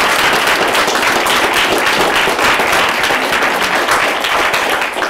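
Sustained applause from a conference audience at a wrap-up roundtable session, a dense, steady wash of many hands clapping throughout, loud and close, with no pause.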